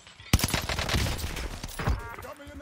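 Video game gunfire opens with a sharp loud shot, followed by a rattling volley of rapid close shots and a second burst near the end of the short stretch.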